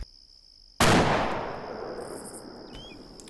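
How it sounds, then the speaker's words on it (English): A long-range weapon firing a test shot at a high ballistic arc in a Half-Life 2 mod, one sharp, loud boom following a quiet stretch and then a long, decaying rumble, with faint mechanical clicks afterward. "I will take a test shot"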